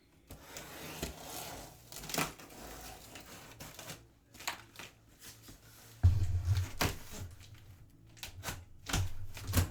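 Packing paper crumpling and rustling around a guitar inside its shipping box, with irregular crinkles, rattles and rustles close by that come in short bursts of varying loudness.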